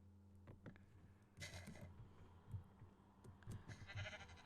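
Sheep in the video game Minecraft making short bleats amid soft thumps and a low hum, with a brief wavering bleat near the end, moderately faint.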